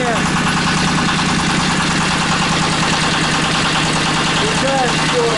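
A heavy TATA diesel walk-behind tractor runs loud and close, its engine chugging in a steady rhythmic drone throughout, with a voice briefly audible over it.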